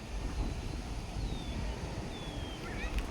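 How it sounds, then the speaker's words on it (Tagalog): Strong wind roars steadily into the microphone during a drone test flight, with low rumbling buffets throughout, and a faint whistling tone drifts in and out. "Lakas ng hangin."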